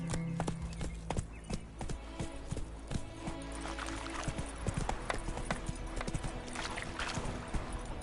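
Hooves of the horse Roach clip-clop in a steady gallop in The Witcher 3, with an occasional snort or whinny over a busy game soundscape, loud and continuous.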